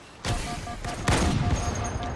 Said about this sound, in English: I didn't know we was using grenades now.